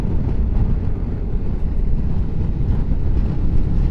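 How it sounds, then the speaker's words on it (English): Wind buffeting on a rider of a Morbidelli T1002VX 997cc V-twin motorcycle at 60, a loud continuous low roar of rushing air and rumble, close to the microphone and steady throughout. "now I'm increasing the buffeting, but it's still not awful because of the positioning of the bike"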